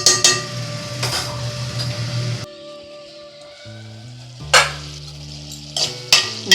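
Mutton keema frying in a pan, Godavari style, with intermittent bursts of sizzling and stirring scrapes, close by, separated by quieter stretches with steady tonal background sounds.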